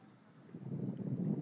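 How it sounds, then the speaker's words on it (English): Wind buffets a microphone at an outdoor softball field, a low, soft rumble that swells after a brief quieter start and continues unevenly. "you'll hear it on the mic, and it is as windy as it sounds"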